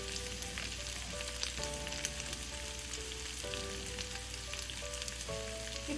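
Ground chicken fries in a pan with cumin-coriander powder and chicken masala for a curry, producing a quiet continuous sizzle with faint crackles and occasional tonal pings throughout.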